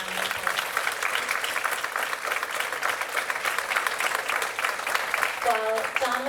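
Audience applause at a 2019 senior graduation ceremony at Barnstable Academy, steady and even throughout, with a brief voice breaking in near the end.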